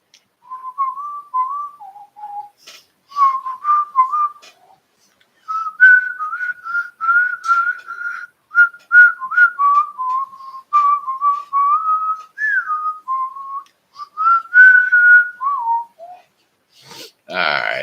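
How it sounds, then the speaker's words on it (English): A person whistles a song solo, a bright wavering melody in quick phrases with short pauses, close and clear, ending in a brief burst of noise. "I was whistling a song."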